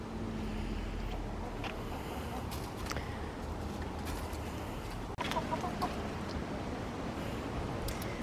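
Quail chicks and other fowl on a homestead, steady chorus of clucking and chirping throughout, with a brief louder knock partway.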